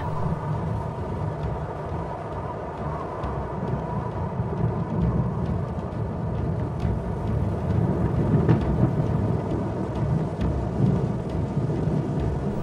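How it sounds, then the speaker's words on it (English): Continuous rain hisses while distant thunder rumbles low and steady, building slightly toward the end. "A storm approaches."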